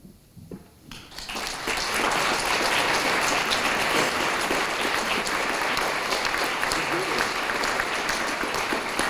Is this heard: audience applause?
yes